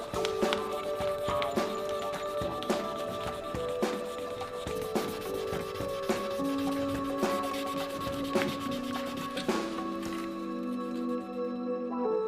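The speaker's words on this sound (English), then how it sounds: "3000 grit, the finest abrasive. We're practically polishing the handle." A knife handle is sanded by hand with fine 3000 grit abrasive, giving repeated soft rubbing strokes in a steady rhythm with faint tonal ringing from the workshop behind.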